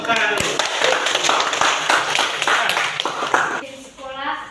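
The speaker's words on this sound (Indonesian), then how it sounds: "Kita berikan dulu aplaus. Tepuk tangan dulu." A classroom of students claps after a presentation, a close burst of uneven hand claps with some distinct individual slaps, mixed with chatter and fading out toward the end as a voice speaks.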